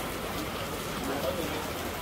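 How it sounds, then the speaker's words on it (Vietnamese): Steady rain falls outdoors as a dense, even hiss of drops with no pauses, moderately loud and close, and no clear voices over it. "Rồi mọi người bên này mưa ướt."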